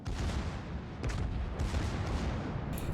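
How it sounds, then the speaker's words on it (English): Heavy naval gunfire from a Republic battleship's forward guns in World of Warships, a broad booming rumble with several sharp blasts in quick succession, loud and continuous over a few seconds. "I hear the Republic's forward guns go off"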